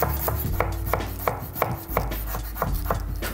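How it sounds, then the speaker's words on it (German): A knife finely dicing a garlic clove on a cutting board, a quick steady series of close, sharp chopping taps, about a dozen in three seconds, with no talking. "Und dazu kommt noch eine Knoblauchzehe, die könnt ihr auch fein würfeln."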